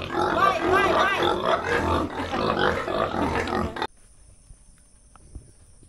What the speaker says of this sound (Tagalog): nag-iingay ng mga baboy